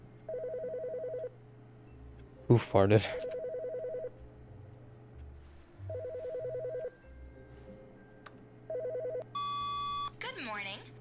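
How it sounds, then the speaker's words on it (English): A telephone rings repeatedly in the video game The Stanley Parable Ultra Deluxe, in regular electronic trilling bursts separated by pauses. A player talks and exclaims loudly between the rings. "That was the phone in the dev thing."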